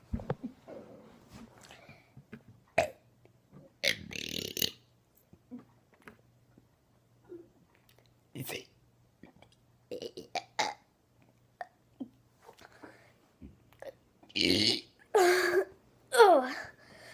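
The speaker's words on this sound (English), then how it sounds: "let's burp the ABCs now." A person burps through the alphabet, producing a long series of separate voiced burps, some short and some drawn out, with quiet gaps between them and louder, longer burps near the end.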